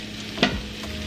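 Tomatillos, peppers, onion and garlic roasting in a hot pan for salsa verde give a soft, continuous sizzle with one brief louder clatter or hiss near the middle, heard alone without speech.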